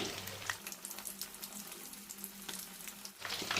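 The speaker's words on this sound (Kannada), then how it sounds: "ಈಗ ಮೀಡಿಯಮ್ ಫ್ಲೇಮಲ್ಲಿ ಇಟ್ಕೊಂಡು ಚೆನ್ನಾಗಿ ಫ್ರೈ ಮಾಡ್ಕೊಳ್ಳೋಣ" Andhra-style chili bajji frying in oil on a medium flame, a continuous soft crackling sizzle, fairly quiet and steady throughout with no voices.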